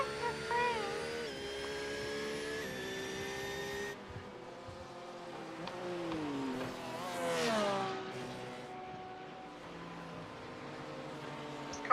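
Race car engine in an iRacing 24-hour endurance race, a quiet, tonal whine that holds steady, drops off, then climbs and falls again as the revs rise through the gears.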